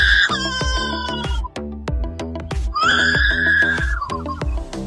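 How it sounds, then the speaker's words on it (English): A lyrebird gives a run of loud, varied harmonic calls with a crowing, clucking quality, set over a steady rhythmic music beat. "This is a lyrebird."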